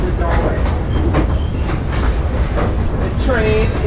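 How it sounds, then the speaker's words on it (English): A St Kitts scenic train pulled by a hydraulic diesel engine rolls along rails: loud, continuous rumble with rhythmic clacking, heard from aboard the train, with occasional faint squeals. "The train is powered by an LYBT Otis hydraulic diesel-powered engine"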